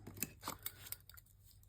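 A few quick snips of scissors close by, sharp and quiet, then a soft rustle as they're set down.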